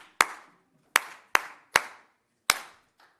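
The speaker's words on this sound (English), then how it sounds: "Can I please allow all of them to come in the front while we are giving them applause?" Five sharp, separate hand claps with uneven gaps, close and loud in an otherwise quiet conference room as panelists are called forward at a city and county managers' global exchange; no talking.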